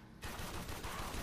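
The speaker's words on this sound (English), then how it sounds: "why are you shooting me" Rapid gunfire bursts in the video game Warframe, a loud, dense stream of shots that starts abruptly after a brief quiet moment and keeps rattling without a break.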